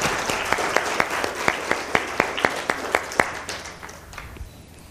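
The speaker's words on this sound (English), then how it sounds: "please give her a round of applause" An audience at a conference applauds steadily for several seconds, with individual sharp claps standing out from a dense wash, then tapering off toward the end.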